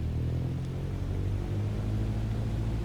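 A Cessna 152 engine runs up in a flight simulator, giving a steady, continuous low drone that holds at an even level throughout, with no voices.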